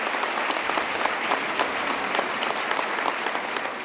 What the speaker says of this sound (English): Big round of applause for Majority Leader Dean Skelos.